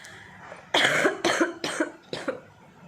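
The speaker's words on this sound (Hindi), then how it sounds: "अभी खांसी हो रही है बहुत ज़्यादा" Four or five harsh coughs in quick succession, close and loud, each burst fading slightly, with a quiet pause before the last.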